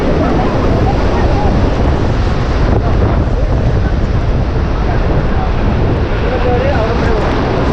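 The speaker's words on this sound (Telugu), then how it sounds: "ఎంత ఫోర్స్ఫుల్గా గాలి ఉందంటే అంత ఫోర్స్ఫుల్గా ఉంది ఇక్కడ" Strong wind buffets the microphone at Thumboormuzhi dam, a loud, continuous broadband roar that persists with no letup from start to finish.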